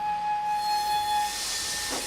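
An old-fashioned steam engine strains to start a heavy passenger train, its wheels slipping with a steady high metallic squeal and hiss that fades into a broad rushing noise, with one short burst near the end.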